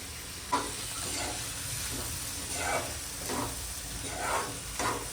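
A spoon stirs cashew curry in a pan so the masala coats the seeds, giving a run of repeated scraping strokes over a soft, continuous sizzle, close and moderately quiet, with no speech.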